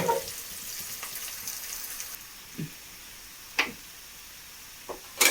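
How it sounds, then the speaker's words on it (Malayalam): Crushed curry leaves frying in coconut oil in a pan, a soft steady sizzle with a few sparse pops and ticks, close but fairly quiet, no talking. "വേപ്പിലയൊക്കെ ചതച്ച് വെളിച്ചെണ്ണ ഒഴിച്ച് മൂപ്പിക്കാൻ വെച്ചിട്ടുണ്ട്"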